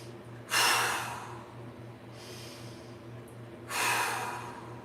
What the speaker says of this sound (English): Let's go 5 big breaths